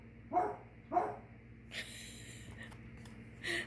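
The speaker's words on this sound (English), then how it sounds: "My dog's barking because it's been raining all day" A dog gives two short muffled barks, then a couple of sharper yelps and huffs, heard indoors at moderate distance with a steady background hum.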